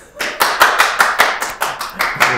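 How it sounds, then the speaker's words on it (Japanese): A few people clapping in a small room, roughly ten crisp, close claps in a quick steady rhythm, with no talk over them. "おい、拍手。"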